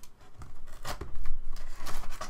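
Scissors snip and slice through packing tape sealing a shipping box, a series of close, crisp cutting and tearing sounds in uneven bursts.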